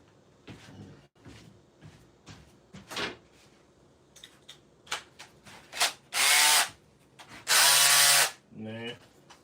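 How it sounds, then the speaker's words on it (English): A power drill whirs in two short, loud bursts after some clattering and handling noises of tools. "I'm gonna try the drill again."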